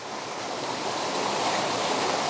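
Waterfall roaring as a steady, dense wash of falling water, heard from behind the falls inside a cave, loud and continuous with no voices.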